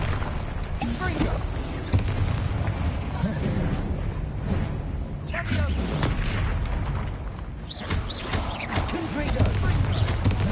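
Repeated fire-blast spell explosions in the video game Hogwarts Legacy, deep booming bursts rolling into one another over a dense, continuous roar of combat sounds, loud and close throughout.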